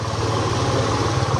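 A Suzuki V-Strom motorcycle engine runs smoothly and steadily, a close, even, pulsing hum with no breaks over the short stretch.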